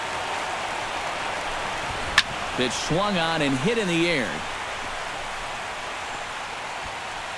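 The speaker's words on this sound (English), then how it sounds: "The rain, as we've mentioned, coming down fairly steadily here at game time." Steady rain hiss pours down through a ballpark scene in the baseball video game MLB The Show 16, a soft continuous wash with a sharp bat crack and a commentator's voice in the middle.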